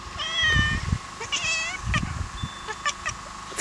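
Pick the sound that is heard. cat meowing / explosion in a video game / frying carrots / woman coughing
cat meowing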